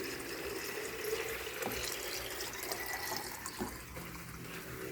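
Plain tap water poured into a quail waterer for day-old quail chicks, a steady close splashing trickle with a few brief clinks, no talk.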